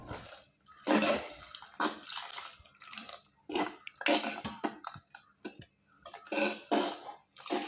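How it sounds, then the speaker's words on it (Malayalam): Water poured into a simmering jackfruit curry in several separate close splashing bursts, each gurgling briefly before pausing. "ഇനി കുറച്ചുകൂടി വെള്ളം കൂടി ചേർത്ത് നമുക്കിത് ഫുള്ളായിട്ടൊന്ന് നല്ലപോലെ ചാറാക്കി എടുക്കാം"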